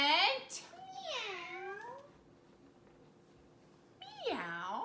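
A reader's voice imitates a cat, giving two drawn-out meows, a pitch-bending one near the start and another after a quiet pause, with a third beginning at the end. The meows are fairly close and clear over a soft background hiss.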